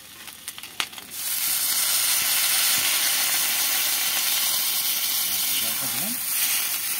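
Water poured into a pan of frying fish bursts into a loud, steady steaming hiss that rises abruptly after a brief knock and holds for several seconds.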